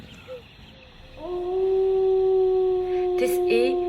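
A wolf gives a long, sustained howl that rises and holds steady for several seconds, loud and close, with a brief second voice joining near the end.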